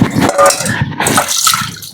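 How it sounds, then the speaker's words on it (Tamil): Water pours and splashes in a steady, gurgling stream, loud and close, with no voices. "தண்ணி ஊற்றி பாருங்கண்ணா"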